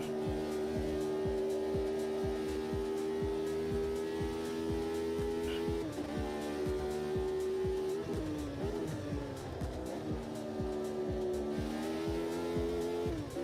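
A V8 race car in a sim racing game accelerates through its gears, a steady engine drone rising in pitch with shift drops around the middle, heard alone at moderate level.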